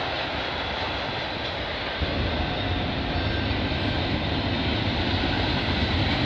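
A CN freight train rolls past at close range, a steady loud broadband rumble that thickens and grows denser about two seconds in, with no voices over it.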